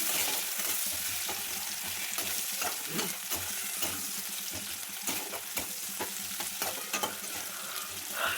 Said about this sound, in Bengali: এবার ওই তেলের ওপর দিচ্ছি জিরে ফোড়ন পেঁয়াজ কুচি পেঁয়াজ কুচিটাকে একটু ভেজে নেব বাদামি করে